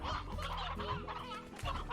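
Chickens clucking in the video game Slime Rancher, several birds close by with overlapping short clucks and squawks in a busy, continuous burst, no talk.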